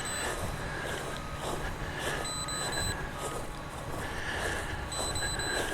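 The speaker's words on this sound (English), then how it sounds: "it's beeping a lot. That must mean that we're getting low on battery" A Holystone Spydi drone beeps for low battery, repeated short, high-pitched electronic beeps every second or two over steady wind noise and outdoor rumble in a park, with no voices.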